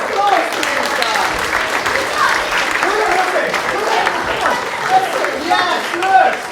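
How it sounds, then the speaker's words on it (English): A group claps enthusiastically at a school science week event, steady applause mixed with excited cheers and children's voices calling out over the clapping. "Round of applause for these guys!"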